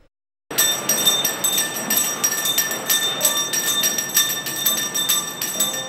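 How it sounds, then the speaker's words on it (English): A Salvation Army red kettle hand bell rings continuously in quick, steady shakes, a bright metallic ringing with lingering overtones that starts abruptly after a brief silence and stays loud and close. "you're bound to see those red kettle bell ringers from the Salvation Army"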